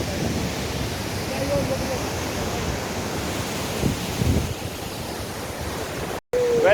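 A spectacular waterfall in Kumrat valley near Jahaz Banda, Dir, Pakistan, gives off a steady, broad rushing roar that fills the air without pause, with faint stray sounds over it.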